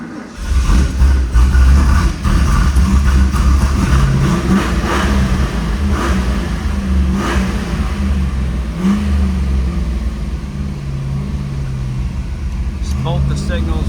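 A restored 1969 Ford Mustang Fastback with a 351 V8 revs loudly and close by, the engine surging and settling in repeated blips with a rough, loaded-up burble between.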